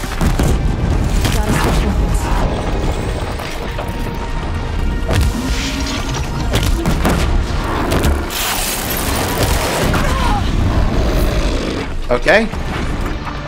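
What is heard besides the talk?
blast launcher explosions in video game Horizon Zero Dawn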